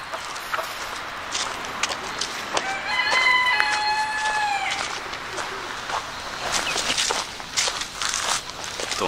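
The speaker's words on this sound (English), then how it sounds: "Don't always find chickens on the trail." Chickens cluck near the Horseshoe Trail with bird calls mixed in, footsteps crunching along and a voice talking over parts of it.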